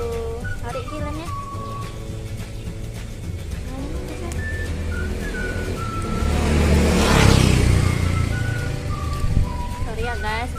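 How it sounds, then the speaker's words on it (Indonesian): A motorbike engine on an outdoor street swells as it passes nearby, rising and fading over steady traffic noise, while people talk over it throughout. "ada bunyi motor, kita lagi di jalan gini, di luar."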